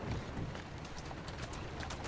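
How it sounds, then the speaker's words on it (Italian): Horse hooves clip-clopping on a street in Assassin's Creed Syndicate, a steady trotting beat mixed into a dense, noisy city ambience with a low rumble underneath. "Che cavallo obbediente."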